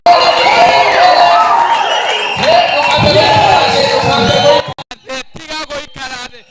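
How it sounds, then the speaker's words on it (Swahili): Church congregation at an all-night kesha cheering loudly and ululating for the Lord, a sustained dense crowd roar with high trilling voices that breaks off into scattered shouts and whoops near the end. "Pigia Bwana shangwe na vigelegele."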